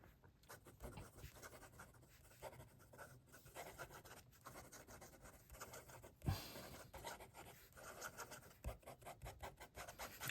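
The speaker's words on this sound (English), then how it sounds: "So, quick writing." A Majohn P139 fountain pen scratches quickly across paper in short bursts of rasping strokes, close and faint, with occasional taps.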